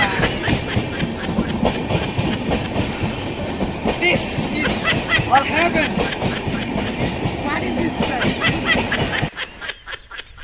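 A train departs close by, a loud, steady clickety-clack of wheels and rumbling cars with voices and laughter mixed in, until the noise cuts off abruptly near the end.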